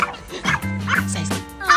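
A dog at a house gives a few short, close barks and yips in quick succession, with a whimpering edge and a brief pause between bursts.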